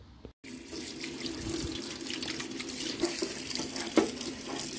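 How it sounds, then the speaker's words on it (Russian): Running water rinses zinc-based rust converter off a rusted metal surface, a steady close splashing stream with small spatters and no talking. "будем смывать данный преобразователь ржавчины"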